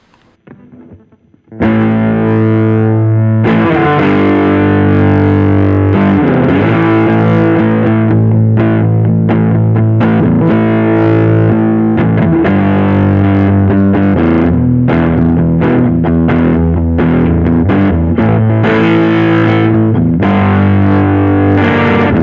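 Loud distorted Sterling by Music Man Majesty MAJ100 electric guitar on the bridge pickup playing sustained chords and riffs, bright and crunchy in tone, continuing steadily after a brief quiet start.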